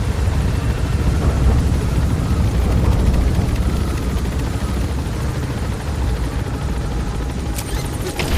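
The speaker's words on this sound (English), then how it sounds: "Focus all your fire on that enemy chopper" An enemy helicopter in the video game Metal Gear Solid V gives a loud, continuous rotor drone and engine roar, close and steady throughout, with a few faint thumps and clicks near the end.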